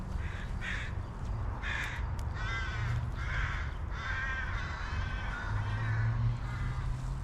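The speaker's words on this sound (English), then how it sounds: "Crow fight." Several crows squabble outdoors, trading harsh caws in bursts of overlapping calls, fairly distant and soft over a steady background rush.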